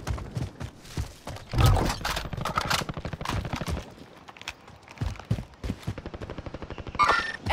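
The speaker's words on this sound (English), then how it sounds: "Receiving hostile fire." Rapid gunfire crackles through Call of Duty Warzone in short automatic bursts and single shots, with in-game voice callouts underneath.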